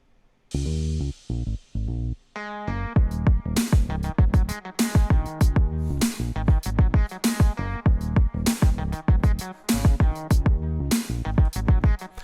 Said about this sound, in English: I add the guitar part, which sounds like this.